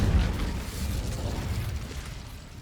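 Incendio fire spell in Hogwarts Legacy: a loud low whooshing burst at the start that trails into a rumbling, crackling roar and gradually fades.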